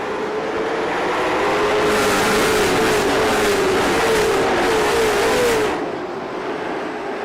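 Race cars in an IROC Challenge Series event roar up to speed together at the green flag, a loud, dense engine surge with rising revs that builds, holds, then eases as the pack passes.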